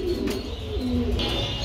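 Cooing of a male pigeon at a pigeon farm, a low steady throaty coo running through the short stretch, fairly close, with faint background bird chirps.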